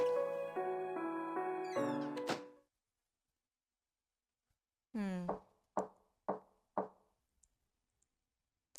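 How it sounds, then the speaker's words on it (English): Knocking on a door in the Town of Nie game comes after a short melodic tone and a pause: four sharp knocks in a steady rhythm, each ringing and fading quickly, set against silence. "I opened my eyelid as I heard a knock at the door."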